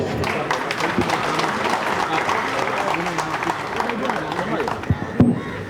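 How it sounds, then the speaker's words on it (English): Audience applause at a cycling association event honoring veteran riders, a steady round of clapping from a gathered crowd mixed with murmuring voices, ending with a sharper clap near the close. "So let's give a good big round of applause."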